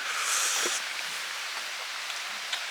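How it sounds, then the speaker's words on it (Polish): Rain falls outdoors along the Eagles' Nests Trail in Poland, a steady broadband hiss with faint scattered drops and light rustling, fairly close and even throughout, with no voices. "Dzisiaj deszcz,"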